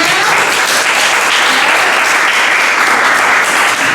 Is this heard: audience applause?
yes